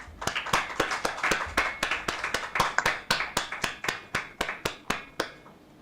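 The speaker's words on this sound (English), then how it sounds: "Can we give the panelists a round of applause?" A small audience at an academic conference gives a round of applause for the panelists, heard as a steady series of sharp, evenly spaced claps, fairly quiet and clear with no talk.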